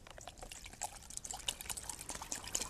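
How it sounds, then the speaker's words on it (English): Cold water poured into a GI canteen cup outdoors, a steady trickling splash with bright droplet spatter, close and fairly faint, no voices. "I'm going to go ahead and fill up my GI Canteen cup with the water."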